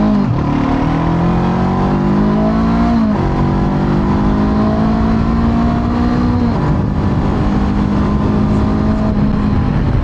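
A 2021 Honda CB500X motorcycle engine drones steadily up close, its pitch climbing and then dropping back twice as it shifts through gears, loud and continuous.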